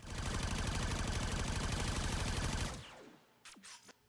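A Dera Vandal energy rifle in the video game Warframe fires in a fast, steady automatic stream for nearly three seconds, then stops, followed by a few faint whooshing effects.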